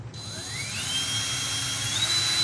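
A power drill whines loudly as it bores into a tin can for a bumble bee craft, its pitch climbing as the motor spins up and then holding a shrill metallic scream, close and alone with no talking.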